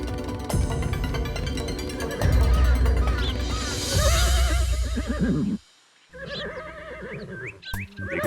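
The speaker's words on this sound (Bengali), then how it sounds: "ঘোড়া তো ডাকে চিচি করে" A royal stable horse named Mangala gives long, wavering neighs close by, a loud whinny in the middle and another after a short pause, over a steady background.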